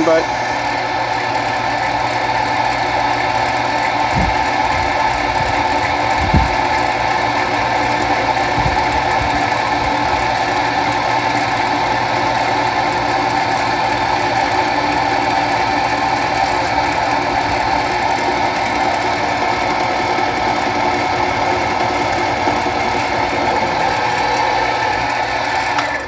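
A homemade boring head runs on a machine while cutting cheap mild steel, giving a steady, loud mechanical drone with a high whine. A few faint knocks stand out, and a voice is heard only briefly.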